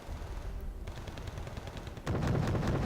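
Autocannon fire crackles in a Wargame Red Dragon battle, a dense, continuous rumble of rapid reports that grows noticeably louder and heavier partway through, with no talking.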